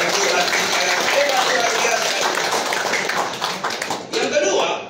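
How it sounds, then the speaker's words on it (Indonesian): Congregation at a church service clapping and applauding together, a dense steady burst of hand claps that thins out near the end. "Beri tepuk tangan dulu yang meriahkan Tuhan."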